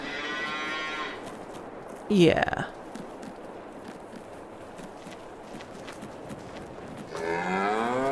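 Beef cows in Farming Simulator 22 moo loudly, one long call at the start and another near the end, with a shorter bellow and hoof-like sounds between and a brief spoken word.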